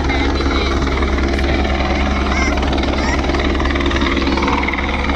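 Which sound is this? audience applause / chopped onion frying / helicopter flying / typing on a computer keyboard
helicopter flying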